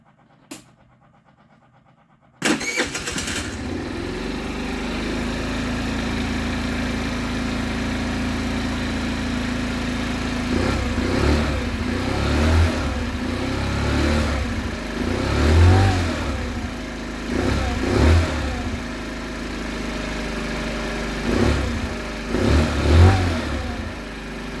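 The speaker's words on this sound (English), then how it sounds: "The engine sounds really nice." A Baotian Angel scooter's small engine catches abruptly after a moment of silence, then runs loud and close. It settles into a steady idle broken by several short revving surges.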